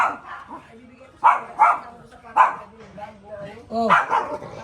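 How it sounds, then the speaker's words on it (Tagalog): Several dogs bark in a series of sharp, loud barks and yips, some overlapping, coming in bursts near the listener while people talk in the background. "Aso, dami."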